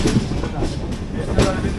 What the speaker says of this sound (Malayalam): ഓപ്പോസിറ്റ് ലൂപ്പ് ലൈനിലൂടെ ഏതോ ഒരു ട്രെയിൻ കയറി വരുന്നുണ്ട്.